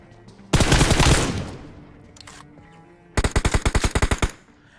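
Enemies open fire in a video game shooter, with two rapid bursts of automatic gunfire separated by a short pause, the first heavier and the second a crisp, evenly spaced rattle.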